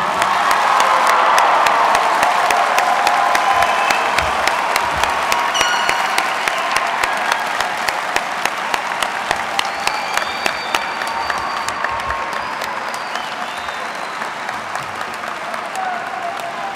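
A large crowd at a high school graduation ceremony in an arena applauds and cheers, a loud sustained roar of clapping with scattered whoops that slowly thins over about seventeen seconds.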